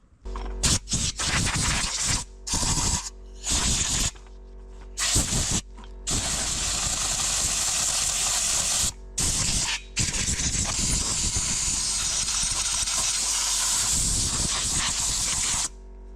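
Compressed air blasting through a woodworking workshop, first in short choppy bursts, then in long sustained loud hisses with brief breaks, close by.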